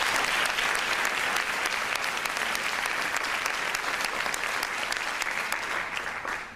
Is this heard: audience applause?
yes